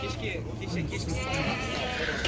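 Lambs bleat at the Uzynagash livestock market near Almaty, faint and a little distant within a busy crowd murmur where people are talking.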